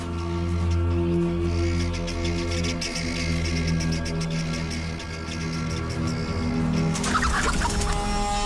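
Guinea fowl call in a loud, harsh chorus in the African wild, dense overlapping squawks sustained throughout, with a sharper burst of calls near the end.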